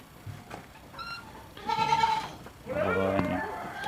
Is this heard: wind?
no